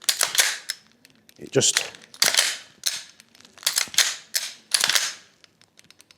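A VFC MPX Copperhead gas blowback airsoft rifle fires a string of sharp, close cracks in short irregular bursts with brief pauses between, while a voice speaks briefly.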